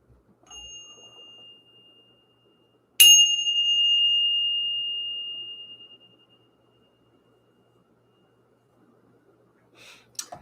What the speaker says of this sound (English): We're going to go ahead and ring the bell.